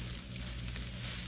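Rice for fried rice frying in a pan, a steady close sizzle with soft hiss throughout, moderately quiet and uninterrupted.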